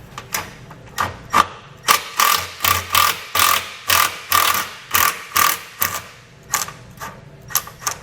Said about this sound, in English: we can take one of these screws back out.